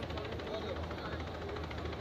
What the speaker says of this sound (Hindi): ये देखिए, आसमान में मंडराता हुआ हेलीकॉप्टर और उससे फूलों की बारिश की गई।